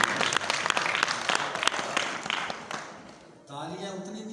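Audience at a comic poetry gathering in Islamabad claps briskly for about three seconds before the applause fades and a voice starts reciting.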